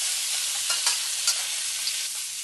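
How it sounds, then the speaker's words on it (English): Pork ribs and vegetables stir-fry in a wok with a steady, bright sizzle, and soft scrapes and stirring knocks come through now and then. "Stir fry to mix well"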